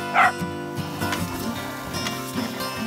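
A dog yips and whimpers near a container garden where fish emulsion fertiliser is being applied to squash plants, a short sharp bark-like burst followed by softer whining, moderately loud and alone.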